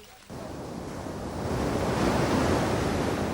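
Dangerous surf rolls along the Coromandel coast with a continuous roar of breaking waves and some wind noise, swelling louder after a quieter first moment.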